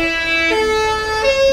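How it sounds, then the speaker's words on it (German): German Martinshorn emergency vehicle siren sounding its two-tone alternating wail, a clear pitch step roughly every 0.7 seconds, moderately loud and passing nearby. "Das Original Martinshorn, was da ist."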